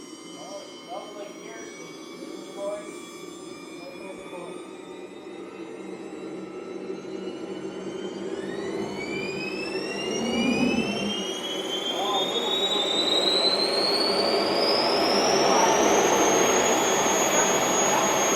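Small jet turbines on a large RC F-14 model jet spool up, a rising whine climbing steadily in pitch and growing louder into a loud roaring rush.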